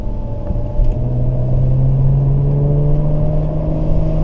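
A BMW 335i engine revs to around 2,500–3,000 rpm, a steady, loud, close droning exhaust note with a rising hum and deep rumble, heard from inside the car with no talking.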